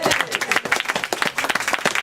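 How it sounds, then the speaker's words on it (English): A small tour group claps in quick, overlapping bursts outdoors on a ghost walk, close and lively with no voices over the sound. "Give them both a clap."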